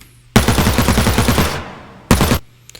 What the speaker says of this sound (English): we've got his actual gun, and I'll play the tails with it too